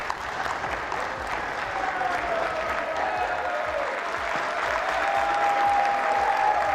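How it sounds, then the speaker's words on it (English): Sustained applause from a large crowd in the House chamber during the Speaker vote, a dense clapping wash that grows slightly louder, with faint voices beneath. "Is that why we're getting an applause?"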